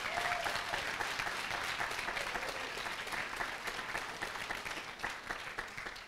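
Audience applause greets the announcement of full year-round arts and music funding at a language artist celebration, steady dense clapping lasting throughout and easing slightly toward the end.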